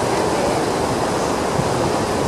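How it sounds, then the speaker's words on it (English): A rushing river along the Salkantay Trek in Peru, a dense, constant roar of fast-moving water, loud and close, with no break across the whole stretch. "Amazing river."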